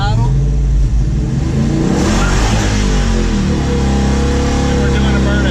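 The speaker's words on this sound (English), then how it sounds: "Bring it up off idle." A manual car held in first gear with the clutch pushed in, its engine revved up off idle for a burnout: loud, close, continuous roar rising and swelling in pitch.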